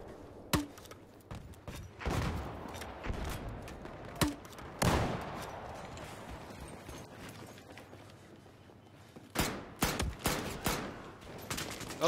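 Gunfire in the Battlefield 4 video game, with scattered sharp shots and short bursts, some close and loud and others fainter, over a steady background rumble.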